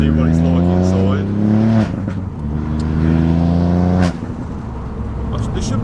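Engine of a Ford Fiesta ST Mk8 heard from the cabin: a loud, deep droning hum that rises and falls with revs, dipping sharply at gear changes, steady and close throughout.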